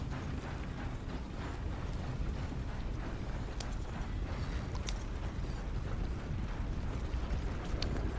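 Horse hooves clip-clop in the video game Red Dead Redemption 2 on a muddy town street, a steady rhythmic plodding over a constant low rumble, with occasional faint creaks and clicks.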